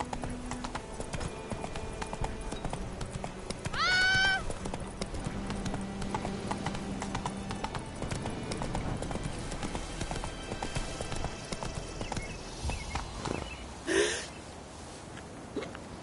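Horse hooves clip-clop steadily in The Witcher 3 as the mount trots along, a continuous rhythmic patter over ambient game sound, with a brief snort or whinny partway through and another near the end.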